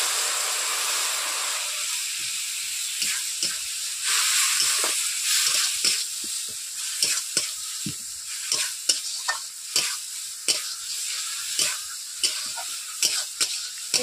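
Tomato, chili powder and turmeric spice paste sizzles steadily in a frying pan, with a constant hiss broken by repeated scrapes and clacks of stirring, close up and fairly loud.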